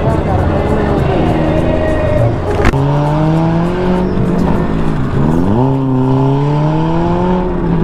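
A car engine revs hard, its pitch climbing and falling through several strong surges, loud and close, with people talking over it.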